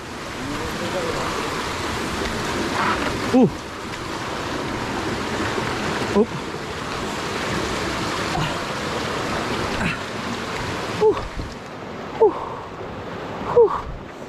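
Forest river water rushes in a steady, broadband flow, with occasional sharp knocks and splashes over it and faint voices in the background.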